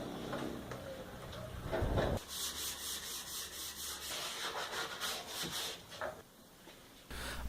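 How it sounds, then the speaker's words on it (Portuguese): Sandpaper rubs by hand across a wooden dining table for eight, the 220-grit paper making a steady scraping back-and-forth rasp that sounds moderately close, with a couple of louder strokes and short pauses. "iniciei o acabamento lixando e aplicando 3 demãos de seladora, tornando a lixar entre cada demão com uma lixa 220"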